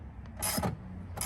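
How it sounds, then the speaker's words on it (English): An 11 mm wrench tightening intake bolts on a 2019-2021 Ram 1500 Hemi during an S&B intake install, giving close metallic ratcheting and rubbing bursts over a steady low hum. "You need a wrench, hold it from one side, and on the other side it's an 11 millimeters."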